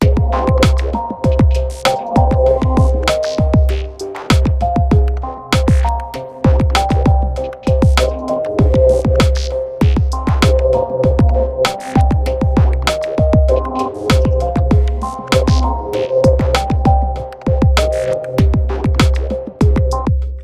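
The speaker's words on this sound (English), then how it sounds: "I've put a compressor on this individual sound." A punchy drum machine loop repeats steadily, with a heavy booming kick, snappy hits and a tight, compressed sound whose delay echoes trail each beat.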